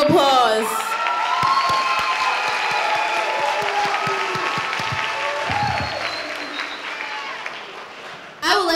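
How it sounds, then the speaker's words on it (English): The class of 2022 applauds at a high school graduation ceremony, sustained loud clapping from a large crowd with scattered cheers and whoops and some voices over it. "Please give yourselves a round of applause."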